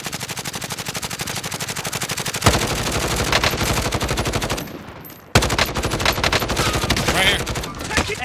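Sustained automatic gunfire from Call of Duty: Warzone rattles in rapid bursts, loud and close, with a brief lull before the shooting resumes at full intensity.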